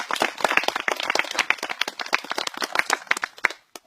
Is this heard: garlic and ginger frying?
no